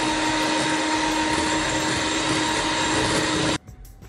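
A hand mixer whips milk into whipped cream, giving a loud, steady electric motor whir that runs unchanged for about three and a half seconds and then cuts off abruptly, leaving faint kitchen sounds.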